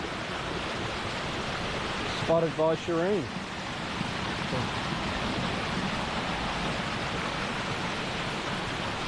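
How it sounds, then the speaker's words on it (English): A small waterfall in Far North Queensland near Port Douglas sends out a steady, soft rushing wash of water, with a short spoken phrase briefly heard over it. "that's a great little waterfall."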